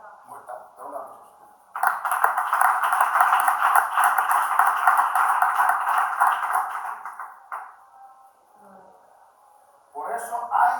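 A church congregation breaks into applause partway through a sermon, a dense burst of clapping lasting about six seconds before tapering off, with the preacher's voice heard before and after.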